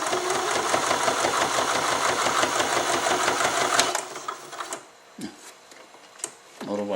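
An Elna sewing machine set to its longest stitch length sews through heavy layers of denim with a fast, even mechanical chatter. The noise stops after about four seconds, leaving only faint handling sounds.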